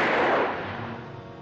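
Gunshots in a 1942 horror comedy film scene, a single loud blast with a long fading echo filling the moment, with no speech over it.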